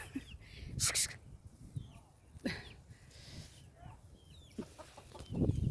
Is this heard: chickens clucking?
yes